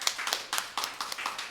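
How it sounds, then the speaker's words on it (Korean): A church youth congregation applauds during Sunday worship to welcome a teacher, a brief patter of scattered hand claps, fairly faint and uneven. "우리 주영 선생님께도 예, 우리 환영과 응원의 박수."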